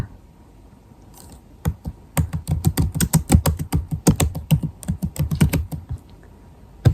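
Rapid clicking of a computer keyboard as a name is typed in, a short pause followed by a fast, steady run of close keystrokes and one final tap, with no talking.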